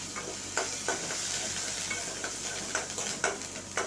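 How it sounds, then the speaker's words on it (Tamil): Chana dal and dried red chillies fry in a pan with a constant bright sizzle, while a spoon stirs and scrapes at intervals. "கடலைப்பருப்பும் அதில் போட்டு நம்ம வறுக்கணுங்க"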